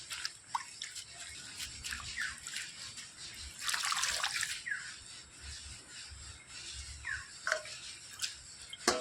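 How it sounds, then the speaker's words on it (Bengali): Coriander leaves being washed and swished in a bowl of water, soft sloshing, dripping and splashes with a louder splash burst midway, quiet and close, no talking. "খুব ভালো করে কিন্তু জল পাল্টে পাল্টে ধুয়ে নিতে হবে।"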